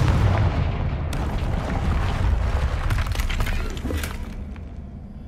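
Explosive Confringo spell blasts in the video game Hogwarts Legacy, a loud rumbling boom with crackling debris that fades slowly, no talking.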